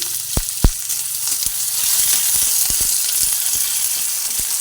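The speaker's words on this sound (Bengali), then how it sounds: "পেঁয়াজটা দিয়ে দিলাম পেঁয়াজটা ভেজে নিচ্ছি" Chopped onion frying in hot oil for a Katla fish and eggplant chorchori, a steady close sizzle with sharp spoon or spatula clicks against the pan scattered throughout, no talking.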